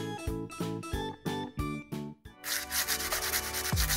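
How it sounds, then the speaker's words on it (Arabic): A nail file rasps against fingernails in quick, rhythmic back-and-forth strokes, close and clear, then blends into a denser, continuous scratchy rubbing. "دولي بتبرد ضوافرها"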